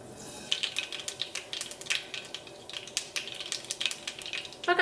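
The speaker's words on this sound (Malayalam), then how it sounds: "ഈ ചൂടായ വെളിച്ചെണ്ണയിലേക്ക് കടുകിട്ട് പൊട്ടിക്കാം." Mustard seeds crackle and pop in hot coconut oil in a pan, a quick run of sharp, irregular snaps close up, with no talk.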